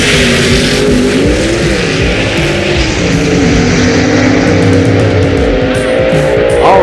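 Loud, sustained engine roar from a drag race pitting a 1963 Galaxie against a Barracuda, the racing motors howling with shifting pitch and no break throughout.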